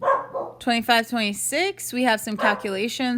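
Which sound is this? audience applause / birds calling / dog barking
dog barking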